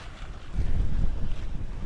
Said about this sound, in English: this is what Caribbean sailing is. Just like this.